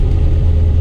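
A John Deere 5065 tractor engine, running hot, idles in a steady, close, low rumble with no pauses or voices over it.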